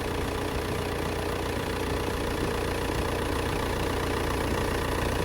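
A car engine idles steadily during a battery charging test with a TOPDON tester, a constant dense mechanical hum and rattle, close and unbroken, with no talking.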